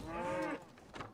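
A cow moos in Assassin's Creed Valhalla, a long drawn-out low call lasting about half a second, fairly close, followed by quieter game ambience and a faint second sound.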